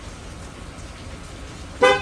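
Car alarm horn chirp from an Excalibur 1670 remote lock command, a single short bright honk arriving near the end after quiet outdoor background.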